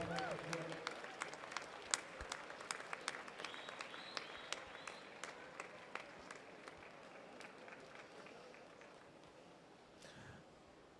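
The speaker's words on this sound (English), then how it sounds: "Let's cheer him as he goes." Spectators at a county swimming qualifier meet clap and cheer for a swimmer named Sebastian. Dense, steady applause with sharp individual claps and crowd noise continues throughout, with voices mixed in.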